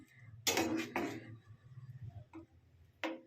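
Potatoes are stirred in a cooking pan, a few sharp scraping and clinking strokes of utensil against metal, close and fairly quiet, with short pauses between them.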